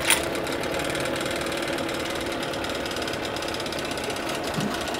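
An outboard boat motor bought second-hand runs on a test start after its gearbox is refitted. It holds a steady, close, mid-pitched chugging hum with a brief knock at the start, and no one speaks.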